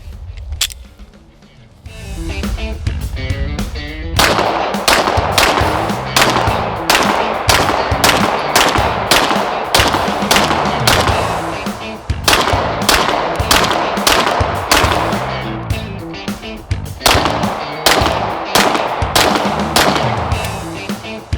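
Repeated pistol shots from a Lone Wolf Dusk 19R loaded with 124 grain hollow point rounds, a steady string of loud, sharp reports fired one after another at an outdoor range, with a few brief pauses between groups.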